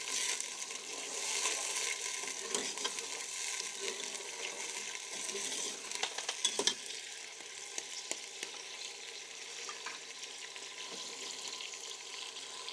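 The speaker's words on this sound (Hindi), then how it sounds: "तो हमने इसको यहाँ पे फ्राई करना है।" Onions frying in hot ghee in a pan over high flame, a soft, continuous crackling sizzle with occasional faint clicks, fairly quiet.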